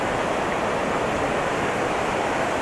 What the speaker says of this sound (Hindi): और ये देखो ये झरना भी आ रहा है